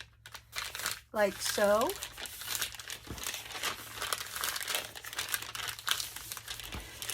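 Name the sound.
paper sack being folded over, crinkling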